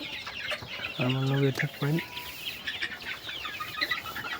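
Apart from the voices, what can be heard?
chickens clucking on a farm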